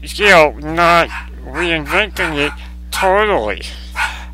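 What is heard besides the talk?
chihuahua barking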